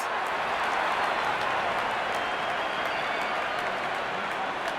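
Cricket crowd at an India vs England T20 match applauding a batsman's fifty, a dense, steady wash of clapping from a large stadium audience that holds evenly throughout.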